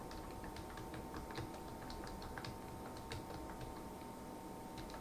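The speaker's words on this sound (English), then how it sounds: "Now we'll type secondary storage devices here." Quiet, rapid clicking of keys on a computer keyboard, an irregular run of light taps spread over several seconds against a faint steady hum, with no talking.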